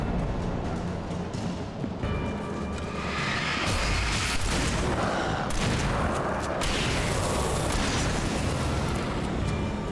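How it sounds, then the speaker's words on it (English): Shotgun fire and combat in Alan Wake, a loud, dense mix of repeated blasts and booming impacts running throughout. "Here, let's use the shotgun."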